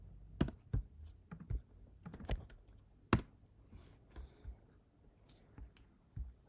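Fingers type on a computer keyboard in irregular bursts of light, close clicks and taps, quiet and alone without talk.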